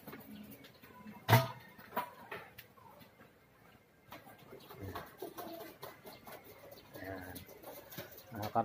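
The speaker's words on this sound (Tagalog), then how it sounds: "Kalapati" Young racing pigeons in a breeding loft, including red bar and black check birds, giving soft low coos and murmurs with one sharp knock, fairly quiet, under a speaking voice nearby.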